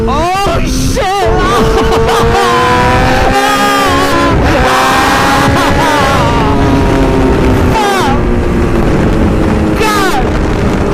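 Superbike motorcycle ride with loud, close engine and exhaust roar rising and falling through repeated accelerations and gear changes, wrapped in heavy wind buffeting on the microphone, with a rider's voice talking over it.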